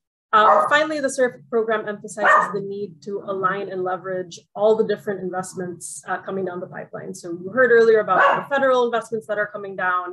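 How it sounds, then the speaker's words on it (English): Dogs bark in the background, faint and partly masked, beneath a person speaking steadily throughout a virtual luncheon presentation. "sorry about the dogs in the background there."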